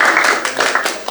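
A short burst of audience applause for a visiting family, several hands clapping close by in an uneven patter that swells and fades within about a second.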